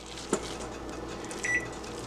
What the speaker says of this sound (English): That's our oatmeal beeping.